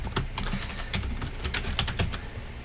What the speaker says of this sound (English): And then you're going to type system restore.